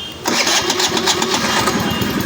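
A Choi Nori motorcycle engine started without the key after an overall engine and wiring refresh, catching quickly and settling into a loud, steady, close-up running rattle.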